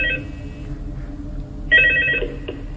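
A telephone rings in Five Nights at Freddy's 2 at the start of the first night's call. It gives a short trilling ring at first, then a second louder burst over a low background hum, with no voices.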